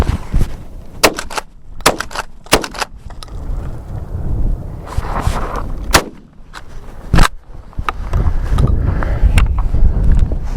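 A Benelli Nova Tactical 12 gauge pump shotgun fires at four targets outdoors, producing several loud, sharp blasts with uneven gaps between them, separated by handling noise and wind.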